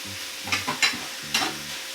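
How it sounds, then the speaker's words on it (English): Cubed pork fries in a pan while being stirred, three distinct scraping stirs over a low, steady sizzle and hum, heard up close with no talking. "We're going to go ahead and put the pork in now."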